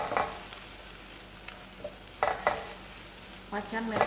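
Ginger and dried chilies stir-fried in a Bima wok, with soft sizzling and several sharp scrapes and clatters of a spatula against the metal.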